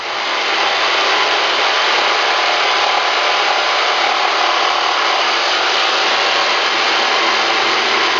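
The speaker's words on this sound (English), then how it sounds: "cut it out with a jigsaw" A jigsaw cutting through a wooden board, a steady loud buzzing saw noise that runs without a break, close up and alone.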